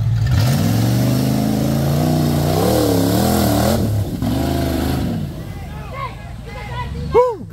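A V8 engine in an offroad 4x4 revs hard and loud and close, rising and falling repeatedly during an offroad challenge, with crowd babble underneath and a few sharp high squeaks near the end.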